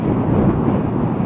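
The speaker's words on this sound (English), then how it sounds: "And it's windy!" Heavy low rumbling wind buffeting a microphone on a 2006 Yamaha FJR1300A motorcycle riding in rain along the Great Ocean Road, a constant roar at speed outdoors, with no voices.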